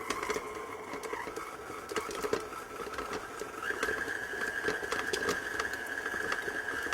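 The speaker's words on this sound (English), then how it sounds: "into the mixer, followed by the herbs. And we can get that mixing on a medium speed." A stand mixer runs steadily at medium speed, beating gorgonzola dolce with herbs into a stuffing for fried stuffed olives, a continuous close mechanical whir with a sustained tone and light irregular clicks and tapping of the bowl, with no talking.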